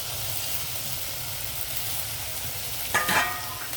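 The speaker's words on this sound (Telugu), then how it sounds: "ఇదిగో కొంచెం వేగాయి ఉల్లిపాయలు, ఇంకా అన్నీ వేసేస్తున్నాను" Onions, curry leaves, coriander, green chillies and tomato fry in a pan with a soft, steady sizzle, broken near the end by a brief clatter as ingredients are added or stirred.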